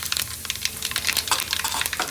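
Mustard seeds and cumin sizzle in hot tempering oil for a Gujarati fried rotla dish, a steady crackle with sharp pops and spits spread through the burst, close and fairly loud with no talking.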